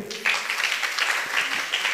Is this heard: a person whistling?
no